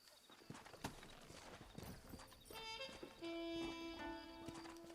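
Horse hooves clip-clopping in the Red Dead Redemption video game, a steady trotting patter with game music and tones rising underneath, fairly faint overall.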